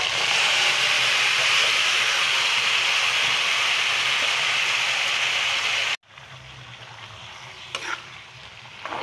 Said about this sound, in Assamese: এয়া কেৰাহীত তেলখিনি গৰম হ'ল, এয়া মাংস ইয়াত দিছোঁ।